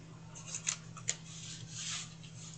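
Scissors cut straight across paper for a composition book makeover, a near, steady rasping snip with two sharper clicks of the blades closing, over a low constant hum.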